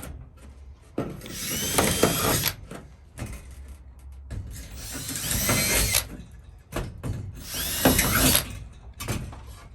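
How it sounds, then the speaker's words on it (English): A drill bores holes into a polycarbonate window panel, giving several whining, grinding bursts of a few seconds each, close and loud, separated by short pauses. "we'll pre-drill 6 holes into the polycarbonate"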